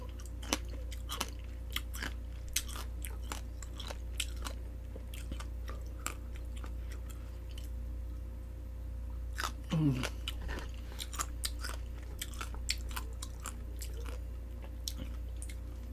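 Close, crisp biting and chewing of raw pomegranate fruit, with steady small crunches and wet squishes repeating throughout, plus one louder bite near the middle, over a low constant hum.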